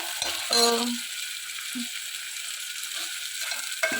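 Onion and tomato frying in a pan while being stirred, a steady close sizzle with a few louder scraping stirs near the start and occasional clinks.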